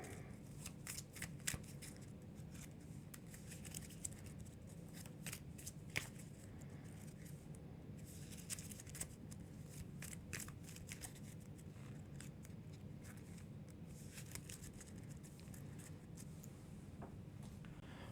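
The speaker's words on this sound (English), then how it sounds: "I had one that I forgot to shuffle in, so we'll shuffle it in now." A deck of Earthborne Rangers game cards is shuffled at a tabletop session, quick riffling bursts of crisp snapping repeated over and over, near and fairly quiet with no talking.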